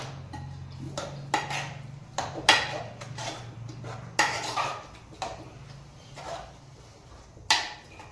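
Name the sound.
mashing vegetables with gram flour in a pot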